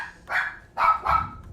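A dog barks three times in a video game, loud and close, with a short pause before the last two barks, which come quickly together.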